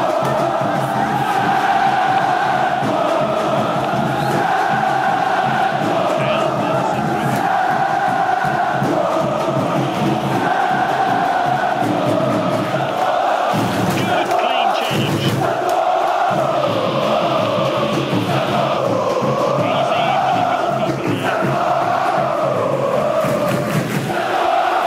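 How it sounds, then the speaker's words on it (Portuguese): Stadium crowd in the Dream League Soccer video game, a sustained roar of cheering and chanting that swells and dips throughout, loud and continuous with no clear talk. "sinta só o apoio da nossa torcida, a galera faz loucura no estádio"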